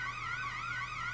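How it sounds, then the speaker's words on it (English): A wailing, warbling alarm tone sounds during a heist in a video game, rising and falling steadily and fairly faint, with no talk over it. "An alarm's going off."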